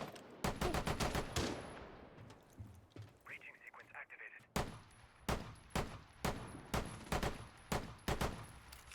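Rapid bursts of gunfire from a Rainbow Six Siege match: a dense volley of shots at the start, then a steady string of single loud reports roughly every half second, with talk audible in the gaps.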